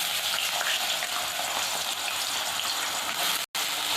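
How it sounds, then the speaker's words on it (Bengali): Small diced potatoes frying in hot oil, a dense, loud, steady sizzle heard close up, broken by one brief dropout near the end, with no talking. "এবার তেলের মধ্যে চলে যাচ্ছে আলু"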